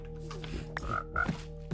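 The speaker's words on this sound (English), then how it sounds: "Frog, phantom." A Minecraft frog croaks a few times in short, low, burbling calls, fairly quiet, with soft game ambience between them and no talking.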